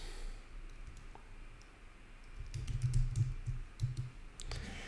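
A computer keyboard is typed on in a quick burst of close, crisp key clicks about halfway through, after a quiet stretch of room tone.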